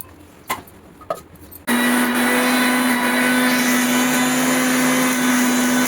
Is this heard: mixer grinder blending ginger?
yes